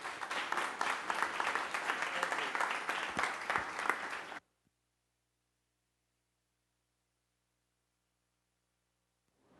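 Audience applause welcoming speaker Peter Ngai at an evening lighting-industry event, a dense sustained clapping from a full room lasting about four seconds, then cutting off into near silence.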